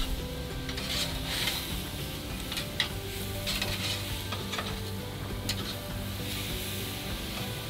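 Pork loin sizzles steadily on a GrillGrate grill, a continuous close crackle and hiss with small pops scattered throughout and no talking.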